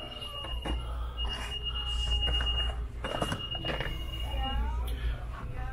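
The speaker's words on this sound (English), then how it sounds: "Somebody needed to stop that beeping." A steady high electronic beep tone runs through most of the clip, with people talking and moving about nearby over a low background rumble.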